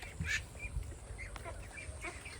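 A small flock of young ducks kept in a netted pen makes faint scattered quacks and soft calls, heard at a distance over a steady outdoor background.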